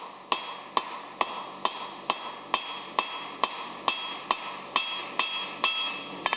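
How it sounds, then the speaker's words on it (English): Blacksmith's hammer striking hot bar stock on an anvil while forging a short square taper for an S hook, with fourteen or so evenly spaced, ringing blows that sound close and clear. "1 or 2 hammer blows, no more than 2 on each face, and then rotate it through 90 degrees"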